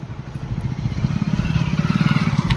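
A motorcycle engine putters close by in a rural village, a low, rapid, throbbing rumble that holds steady and grows slightly louder over a couple of seconds.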